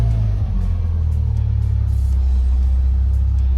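A Lotus Elise S1 engine running after a restart, a loud, steady, low rumbling idle heard close up with no speech over it.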